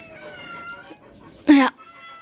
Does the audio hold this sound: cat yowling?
yes